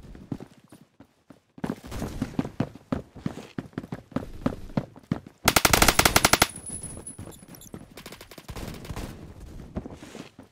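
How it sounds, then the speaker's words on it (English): A light machine gun in the Roblox shooter Phantom Forces fires repeated automatic bursts, peaking in a dense, loud stream of rounds midway through, with footstep-like clatter between the volleys. "LMG now, though, is very accurate."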